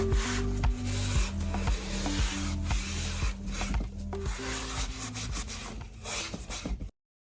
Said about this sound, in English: So I'm just going to add the wax. Putting on a pretty liberal layer.